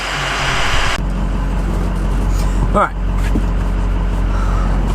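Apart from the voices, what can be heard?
diesel truck driving down the road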